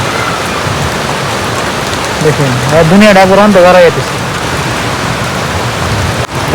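Loud, dense rain pours continuously close by, with someone speaking over it briefly in the middle.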